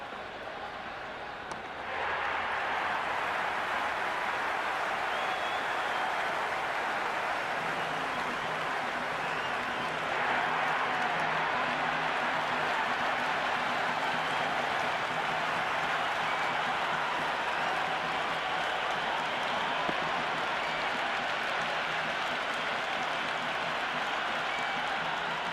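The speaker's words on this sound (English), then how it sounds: "There's a buzz, a real buzz coming from the stands." Stadium crowd at an IPL cricket match between MI and CSK in a video game, a continuous dense roar and buzz from the stands, steady and full throughout.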